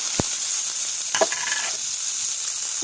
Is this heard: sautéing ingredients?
yes